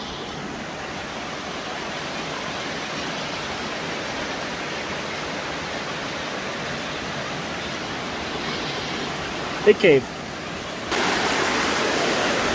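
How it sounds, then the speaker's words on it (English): Running water rushes inside a wind cave in Wyoming as a steady, loud, hissing roar that fills the space throughout. A voice speaks briefly near the end. "There's just a lot of running water."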